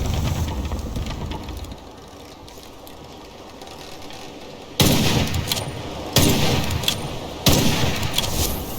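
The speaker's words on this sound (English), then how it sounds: "The guns sound great without tiring your ears." Gunfire from the dark fantasy shooter Witchfire: after a quieter rumbling stretch, three loud, close shots or bursts hit at regular intervals, each with a sharp attack and a short, full-bodied tail, with no talking.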